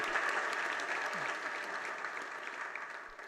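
A gathering listening to a religious sermon claps steadily, a soft, even patter of many hands heard from a distance without any voices.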